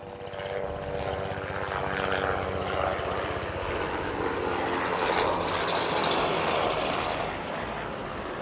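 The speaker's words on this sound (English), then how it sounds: "Okay, helicopters." A helicopter passes overhead with a steady, loud rotor and engine roar that swells slightly toward the middle and holds throughout, with no voices over it.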